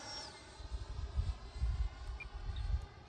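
An FMS 80mm Integral RC jet model airplane flies past, its ducted-fan whine faint and distant over a low wind rumble that swells and fades.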